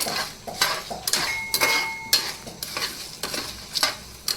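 A spice masala for chhole bhature dry-roasts in a pan, a spoon scraping and stirring in quick repeated strokes over a soft, steady sizzle, with occasional light metallic clinks against the pan.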